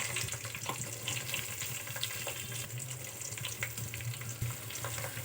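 Onions sautéing with cumin, fennel and curry leaves in hot oil for a dried fish curry make a continuous close sizzle with soft crackles and spatula scrapes, with no voices.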